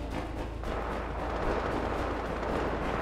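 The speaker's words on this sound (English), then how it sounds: "Friendly airstrike incoming." Friendly airstrike in a war video game, a dense continuous rumble of overlapping explosions and booming fire, loud and sustained without pause.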